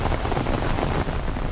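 Steady, dense rain pours down in a sudden summer shower, a loud continuous hiss of drops with no pauses and no voices.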